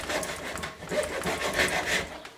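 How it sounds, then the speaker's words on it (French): A hand saw cuts into a piece of plastic, giving close, steady back-and-forth rasping strokes for a couple of seconds with no talk. "je vais essayer de faire un trait de scie comme ça"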